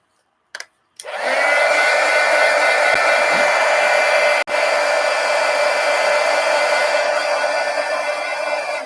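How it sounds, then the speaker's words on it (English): A heat gun blows steadily on freshly inked sketch paper, a loud continuous whooshing roar after a brief start-stop, with one short cut-out midway before it resumes alone. "Let me hit it with the heat gun."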